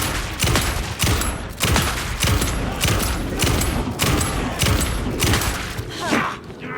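Shotgun blasts in Alan Wake 2 fire in a steady series of heavy booms at roughly half-second intervals, loud and close, ending in a brief lull.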